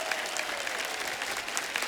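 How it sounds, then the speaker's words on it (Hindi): Audience applause after a stand-up comedy act on a Hindi TV laughter competition show, a steady dense patter of many clapping hands, moderately loud throughout. "इसके लिए मैं एक बार फिर से आपके लिए तालियां बजाऊंगा।"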